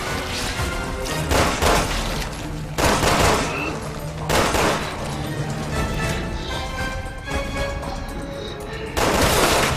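Rapid gunfire rings out in Resident Evil 6 as enemies are shot, with dense bursts of shots and crashes repeating throughout, loud and continuous over a busy game soundscape.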